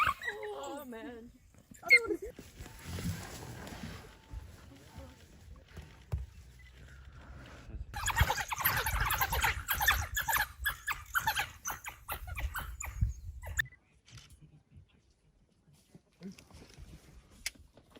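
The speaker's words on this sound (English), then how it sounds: "Wild dogs, wild dogs. Fighting, fighting." Wild dogs fighting in the African bush yelp and whimper, with harsh, busy scuffling noise most intense in the middle stretch, while people talk excitedly over much of it.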